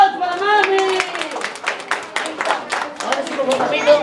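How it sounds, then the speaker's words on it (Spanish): Clapping from a small crowd at a family birthday party, with scattered cheering and chatter mixed throughout the burst of applause. "¡Aplausos para mami!"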